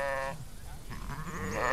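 Sheep grazing knapweed on western rangeland bleat over a steady outdoor rumble, a wavering bleat at the start followed by fainter overlapping calls from the herd.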